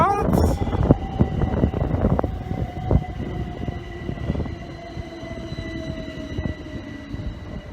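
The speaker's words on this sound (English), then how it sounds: "There's a train coming." A Great Northern train pulls into Essex Road station, a loud rumbling approach with rail squeal and screeching brake tones that slowly ease off, with faint voices in the background.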